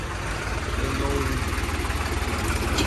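A deep, steady engine idle chugs with a regular low throb, close and continuous, with faint voices underneath.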